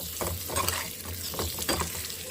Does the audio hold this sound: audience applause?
no